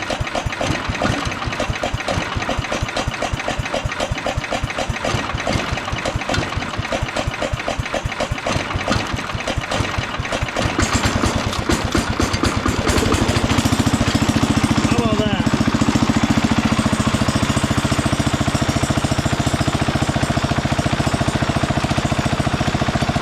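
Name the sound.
1968 Wheel Horse Commando 8 tractor engine running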